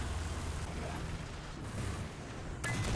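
Tank cannon fire in War Thunder, a low rumbling boom with mechanical clatter and engine drone, followed by a sharp bright crack near the end; talk is faintly present in the mix.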